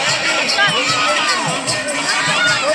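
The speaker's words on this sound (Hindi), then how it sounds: "देखो कितनी भीड़ भैया" Dense crowd babble at an outdoor village fair (sharad mela) in Raebareli, a steady loud wash of many voices with children shouting and occasional cheers, continuous throughout.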